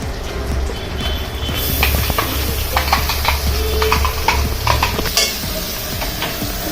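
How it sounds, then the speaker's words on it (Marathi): Ground tomato-onion masala sautéing in oil in a pot for chicken tandoor biryani, a steady low sizzle with scattered scraping and clinks of a spoon stirring against the pot, close and moderately loud. "आणि मी याला तेलात चांगले परतून घेणार आहे"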